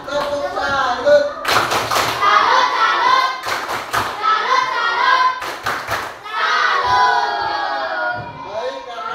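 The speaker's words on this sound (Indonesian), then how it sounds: "kita berikan dulu tepuk salut untuk semuanya. Tepuk salut." A classroom of children performs a patterned clapping routine, loud bursts of rhythmic hand claps alternating with chanted group voices and a teacher's talk in between.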